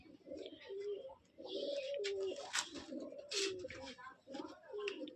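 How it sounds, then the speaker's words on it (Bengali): Giribaz pigeons coo in low, repeated rolling calls that rise and fall, close by and moderately loud, with people talking and handling sounds mixed in throughout. "কবুতর দেখাবো আপনাদেরকে"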